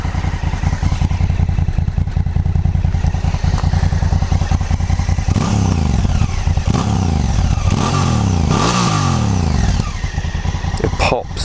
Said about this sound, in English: This exhaust is, for a standard exhaust, to sound absolutely incredible.